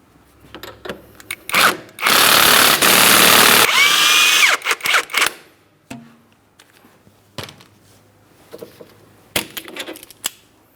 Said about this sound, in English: We'll use our 22mm to remove that nut.